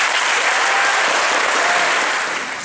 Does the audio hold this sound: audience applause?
yes